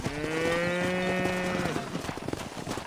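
A cow in Red Dead Redemption gives one long, close moo lasting over a second, then fades into faint ranch ambience with soft thumps.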